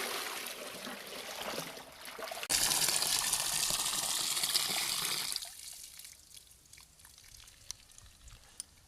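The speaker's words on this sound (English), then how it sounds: "Pour this water in here" Water poured into a basin of clothes for hand washing, a steady loud splashing and trickling pour lasting a few seconds before easing into quieter dribbles and small drips.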